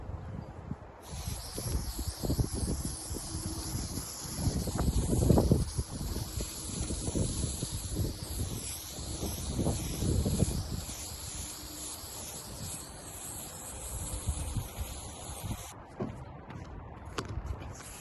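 Closed cell foam insulation sprayed outdoors on a windy day, a steady broad hiss with surging gusts of wind noise across the microphone, swelling and fading over a long stretch with no talk.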